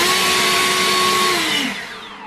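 EGO 575 CFM cordless leaf blower running at full power, a loud steady electric whine and rushing airflow held for about two seconds before the pitch drops and it starts to wind down.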